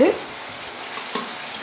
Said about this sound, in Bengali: এবার আলুটা তুলব, আলুটাকে দিয়ে দেবো।